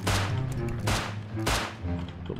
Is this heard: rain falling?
no